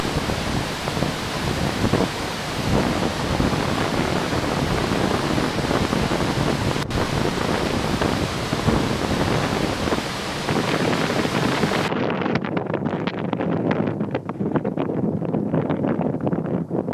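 Surging floodwater rushes through flooded streets as a loud, dense, continuous roar of churning water with wind buffeting, unbroken for the whole stretch and dulling somewhat near the end, with no voices.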